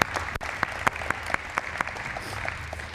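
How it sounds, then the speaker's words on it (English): Moderately faint applause from a debate audience welcoming a speaker, with individual claps standing out in a loose, uneven rhythm over the crowd's general clapping. "Let's give a round of applause for Luke."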